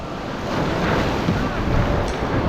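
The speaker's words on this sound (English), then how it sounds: "These waves are coming in." Ocean surf rolls in at the shoreline during a sea kayaking launch, a steady broadband wash of breaking waves heard up close, with wind buffeting the microphone throughout.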